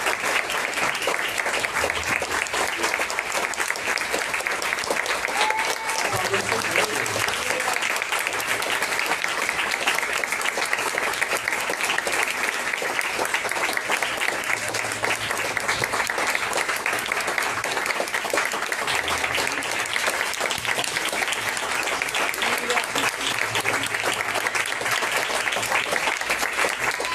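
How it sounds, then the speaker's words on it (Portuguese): A church congregation applauds continuously and steadily, a dense wash of clapping filling the room at full strength from start to finish, with a few voices faintly mixed into the crowd. "Aplauda o Senhor nessa noite de hoje."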